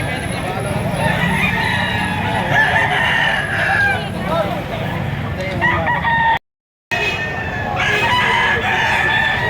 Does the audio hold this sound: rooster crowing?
yes